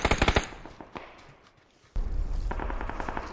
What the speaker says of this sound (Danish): skudd på høyre og venstre foran overalt